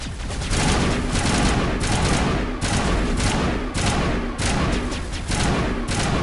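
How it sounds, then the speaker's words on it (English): Enemies shoot in Mass Effect Legendary Edition on Insanity difficulty: sustained, loud bursts of rapid gunfire repeat in rhythmic volleys with short gaps, dense and close throughout. "Someone is shooting at us."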